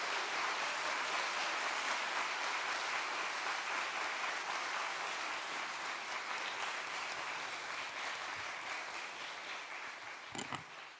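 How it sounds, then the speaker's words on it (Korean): A church congregation applauds to welcome a pastor, with dense, steady clapping filling the room, then tapering off near the end. "우리 선우철진 목사님 나올 때 우리 박수로 격려 환영해 주시겠습니다"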